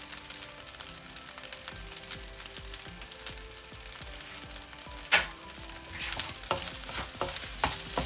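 Egg fried rice stirred in a pan with the heat just turned off, a soft fading sizzle under repeated scraping and clinking strokes of a utensil.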